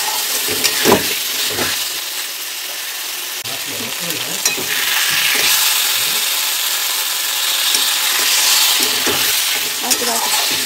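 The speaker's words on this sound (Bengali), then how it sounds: "অল্প একটু জল অ্যাড করতে হবে আর ভালো করে এটাকে কষতে হবে।" Mutton curry being stir-fried in a pot with a splash of water, dhaba style, giving a continuous loud sizzle that swells midway, broken by irregular scraping and knocking of the spatula.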